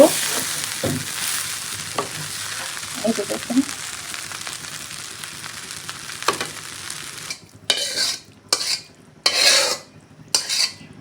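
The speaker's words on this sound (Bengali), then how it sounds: "এখন চালে ডালে ভেজে নিতেছি" Rice and lentils frying in a pan give a steady, moderate sizzle, then a series of loud, rhythmic scraping stirs in the last few seconds; a voice speaks briefly early on.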